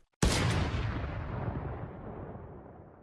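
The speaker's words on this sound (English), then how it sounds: "The heavy sniper in Fortnite." A single loud, booming shot from the heavy sniper rifle in Fortnite cracks sharply, then rolls off in a long echoing decay that fades over about three seconds.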